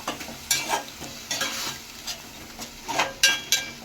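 Cumin, ginger, garlic and onions sizzle in a pan for a Godavari crab curry, with repeated stirring scrapes and clinks of a spoon against the pot rising over a steady close fry.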